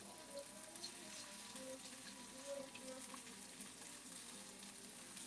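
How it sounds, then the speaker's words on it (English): Sockeye salmon sizzles skin-up in a hot pan, a soft continuous frying hiss that stays faint and even, with a little background speech. "I'm gonna let this just cook."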